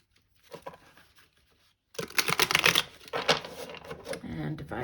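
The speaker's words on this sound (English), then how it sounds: "Okay, we'll do one last shuffle," A tarot card deck is shuffled in quick riffling bursts of papery card noise, faint at first and then louder and denser, with a voice speaking over it.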